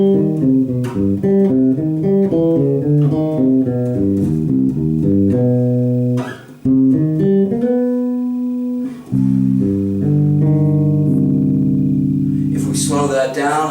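A 4-string bass plays a chromatic approach-note pattern and then an arpeggio across two octaves, with clear, plucked notes in a steady stepping rhythm, close and loud with no voice over it.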